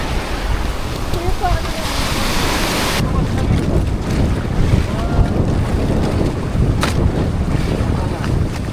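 Boat powering through strong, choppy sea waves off Boracay, with loud continuous wind buffeting the microphone and sloshing water throughout; hull slaps and splashes rise and fall close by.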